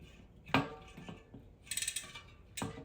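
An Elite Wheels Drive G45 full-carbon gravel disc wheel grinds against the cassette, making short metallic scraping and ratcheting bursts, a sharp one early and another near the end, with a brighter grinding stretch between, heard up close with no talking.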